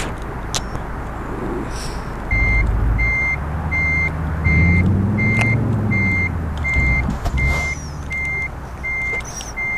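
Reversing beeps repeat in a steady rhythm from a truck in a United Kingdom truck simulator video game, over a low engine rumble that swells as the truck maneuvers to pick up a trailer.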